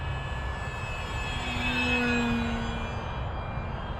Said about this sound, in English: I'm just going about half throttle most of the time,